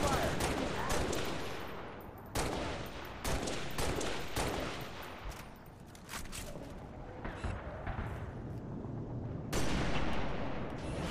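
Gunfire in Halo Reach: bursts of rifle shots and volleys crack in clusters over roughly eleven seconds, some loud and close, others more distant, with a voice briefly under the fire.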